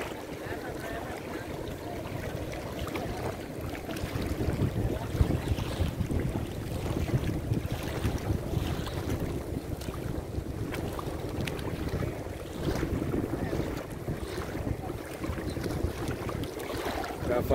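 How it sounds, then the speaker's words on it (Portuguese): Sea by the shore with boats out on the water in wind, a continuous rough wash of waves and gusting wind buffeting the microphone, steady and fairly loud throughout. "Agora o barulho do mar."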